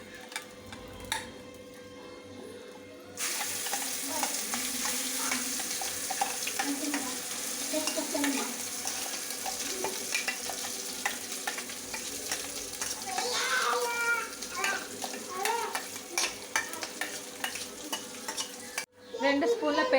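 Ground spice paste with cloves and cinnamon sizzles steadily in a pan for paneer curry, with a spoon scraping and stirring through it in close, continuous strokes.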